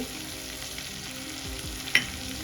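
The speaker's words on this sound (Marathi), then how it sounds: "आपल्याला टोमॅटो छान मेल्ट होईपर्यंत परतून घ्यायचा आहे" Tomatoes with turmeric fry and get stirred in a pan, a soft steady sizzle with a few scraping spoon strokes and one sharp clink near the end, close by and without speech.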